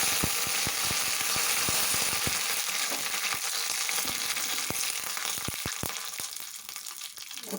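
Dried red chillies and curry leaves fry in hot oil for a tempering, a steady close crackling hiss dotted with many small sharp pops that thin out toward the end, with no talking. The tempering is for a coconut red chutney.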